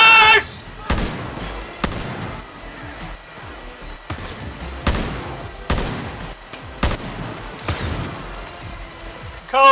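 Far Cry New Dawn sniper battle: sharp gunshot cracks strike roughly once a second across the whole stretch, loud and close, each with a short echoing tail, over the game's background ambience.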